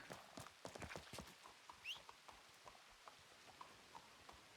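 A horse in the Red Dead Redemption 2 video game clip-clops along at a walking pace, its hooves faint and quiet, with a brief higher call partway through.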